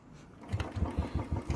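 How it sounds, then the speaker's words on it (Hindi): A Royal Enfield Bullet motorcycle engine catches on a kick-start in cold winter weather, settling into a steady low, rhythmic thump, close and fairly loud. "एक किक तो मैंने हल्की मारी, दूसरी किक में स्टार्ट होगी"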